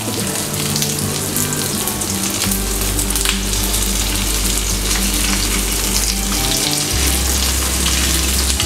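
Mutton seekh kebabs fry in a pan with a loud, continuous sizzle and crackle, close and unbroken, while a low steady hum runs under it.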